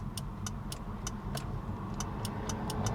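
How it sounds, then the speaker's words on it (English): Starter relay in a 1998 Mitsubishi Eclipse with a dead starter after hurricane flooding clicks repeatedly, about a dozen sharp evenly spaced ticks over a steady low rumble, with no cranking following. "I hear the relay, but nothing from the starter"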